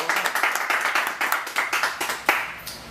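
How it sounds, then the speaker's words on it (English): A small group claps in quick, uneven bursts of applause, fairly close and crisp, tapering off toward the end with no talk over it. "Give her a round of applause, everybody."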